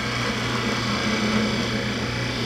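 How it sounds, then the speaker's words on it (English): Skew chisel facing off the end of a wood block spinning on a lathe, a steady close hum and whir with a faint scraping hiss that holds evenly throughout, no voices. "We'll face off the end here using the skew chisel."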